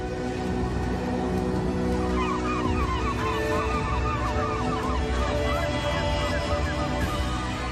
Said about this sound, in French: les mouettes affamées passent à côté des meilleurs morceaux